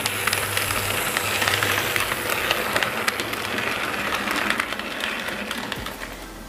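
An HO scale model electric train runs along its layout with a steady rolling rumble and light rhythmic clicking of wheels on track, continuous and moderately loud.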